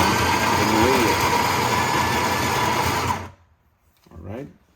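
A Niche Zero coffee grinder grinds espresso beans with a steady, loud whirring hum for about three seconds, then stops abruptly, after which a voice speaks briefly.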